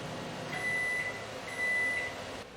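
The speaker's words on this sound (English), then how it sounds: "we have a 1500 watt microwave oven. And you can see we peaked out just under 1700 watts and the microwave is running just fine." A 1500-watt microwave oven hums steadily while running, with two sustained electronic tones sounding over a low background drone; no one speaks.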